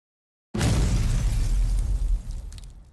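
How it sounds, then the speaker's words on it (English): A powerful explosion bursts in the shooter video game Girls' Frontline 2: Exilium after a moment of silence, a loud, full-range boom with debris crackle that rumbles on and slowly fades. "the sound of more gunfire and explosions comes from the other"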